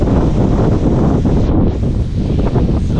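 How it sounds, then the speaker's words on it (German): Strong, steady wind roars across the microphone at a seaside campsite on the Croatian coast, a loud continuous buffeting rush with no other sounds standing out. "Es ist gut windig"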